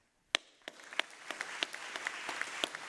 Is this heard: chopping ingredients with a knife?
no